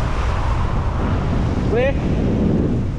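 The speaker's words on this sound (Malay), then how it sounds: "Memang angin kuat." Strong wind roars steadily into the microphone at an outdoor bridge construction site, a loud continuous rumble that masks most detail, while a voice speaks briefly partway through.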